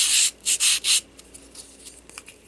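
A sanding stick rubs over the rim of a small miniature bowl in three loud, quick scraping strokes, followed by softer, lighter scratches.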